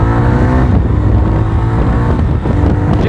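A 2024 Jawa 42 FJ 350 motorcycle pulls hard in first gear, its exhaust a loud, steady, throbbing engine roar with continuous revving and no pauses, close by.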